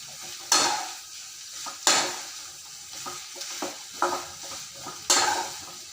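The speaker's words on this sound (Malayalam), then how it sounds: "ഉള്ളി നന്നായി കളറ് മാറണം. അതുവരെ ഇളക്കാം" Onions frying in a pan while being stirred, steady soft sizzling marked by a few sharp scrapes and clinks of the spoon against the metal, close up and alone.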